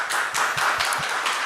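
A lecture audience gives a brief round of applause, sparse and light, a few distinct claps spaced irregularly rather than a full ovation.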